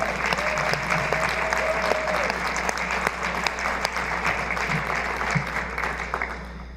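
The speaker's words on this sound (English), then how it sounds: "Annie Peters, a round of applause?" Conference audience applauding a speaker at an addiction-treatment data session, steady sustained clapping across a crowded room, loud and continuous, with a brief tonal hum early on and faint voices underneath.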